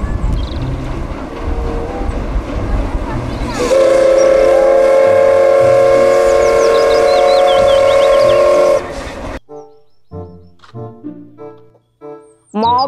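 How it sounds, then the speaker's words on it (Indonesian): A toy Thomas steam train chugs along, then a loud sustained steam whistle blows for several seconds before cutting off, followed by short toy-like tones. "Kereta Thomas"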